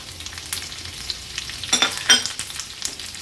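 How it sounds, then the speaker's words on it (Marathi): Two small onions and three green chillies drop into hot oil for a tempering in an Agri-Koli style chicken masala, with a close bubbling sizzle and two sharper bursts of crackle as they go in. No speech. "आता फोडणीला हे 2 छोटे कांदे आणि 3 हिरव्या मिरच्या घालूया"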